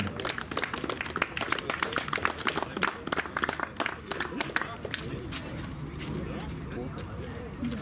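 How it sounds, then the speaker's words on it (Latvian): Applause at a Minišoseja round 5 motorsport awards ceremony at Biķernieki track: a crowd claps in a dense, steady patter for several seconds, then thins and fades toward the end. "Aplaus, aplausī."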